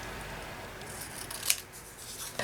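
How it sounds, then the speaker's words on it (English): Scissors give a single brief snip while trimming paper for a mixed-media art tile on a journal page, faint and close over a quiet room. "cut it down a little bit more."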